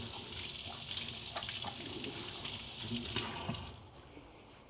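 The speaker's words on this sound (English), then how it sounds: "Wash my hands." Hands are washed under a running tap at a kitchen sink in Siem Reap, a steady broadband stream of water with small splashes and shifts as the hands move, moderately loud and without talk.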